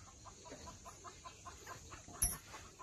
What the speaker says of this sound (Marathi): कोंबड्या डालायचं.